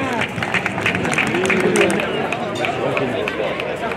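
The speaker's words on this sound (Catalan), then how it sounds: "Un fort aplaudiment pel dorsal número 5" A crowd at a Catalan Pyrenean horse show in Olot applauds a rider, with steady clapping mixed with chatter and crowd noise, while voices talk over it.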